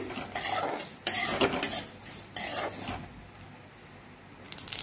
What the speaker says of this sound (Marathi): ती पण कमी गॅसवर आपल्याला भाजून घ्यायची आहे। मोहरी भाजताना थोडी काळजी घ्या